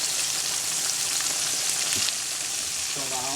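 Floured pork chops fry in a pan for smothered pork chops, giving a steady, bright sizzle that carries on evenly throughout, fairly close, with a faint voice briefly near the end.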